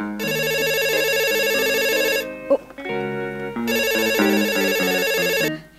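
A melodic electronic ringtone plays loudly in two long bursts with a brief pause between them, no voices present.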